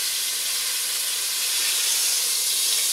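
Chicken pieces for cacciatore sizzle in a hot pan as one is flipped, a loud, steady close-up hiss of frying that swells slightly partway through, with no voices.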